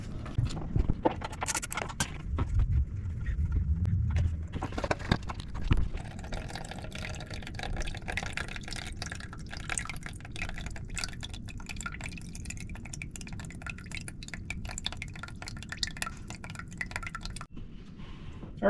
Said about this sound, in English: So I got it out a little bit, just draining into my drain pan.